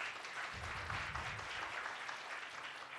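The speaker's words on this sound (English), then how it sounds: "Big applause." A live-stream panel audience applauds while panelists are introduced, a steady, dense patter of clapping throughout, with no voice over it.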